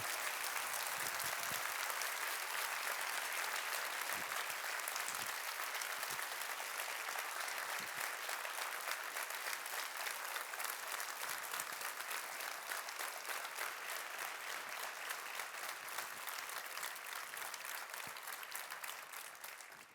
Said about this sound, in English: So now we can all clap.